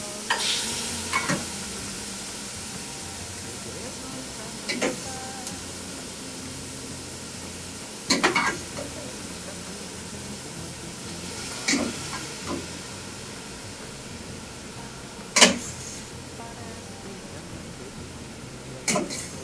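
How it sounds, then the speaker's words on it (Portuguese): Beans sauté in a pan that sizzles steadily throughout, with occasional sharp clinks of a utensil stirring against the metal every few seconds. "Cada vez que vocês escutam essa panela chiar, sobe uma onda de cheiro aqui desse refogado"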